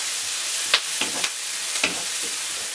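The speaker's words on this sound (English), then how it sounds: "it was on 9 by the way, that's why it sizzled" Mince frying in olive oil over high heat in a pan, a steady broadband sizzle throughout, with a few brief scraping stirs as the meat is moved around.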